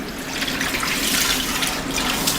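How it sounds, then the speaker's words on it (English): Tap water runs steadily over hair as it is rinsed clean after a 4C hair wash-and-go routine, a continuous close hiss of flowing, splashing water with no speech. "So now that we've rinsed your hair, we've cleaned it, because water cleans"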